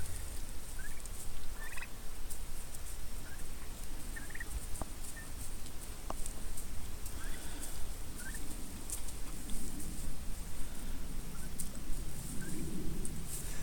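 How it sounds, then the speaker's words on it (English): Several turkeys chirp and give short gobbling calls at intervals over a constant noisy outdoor background, some calls closer and louder than others. "They're making those really cool chirping sounds."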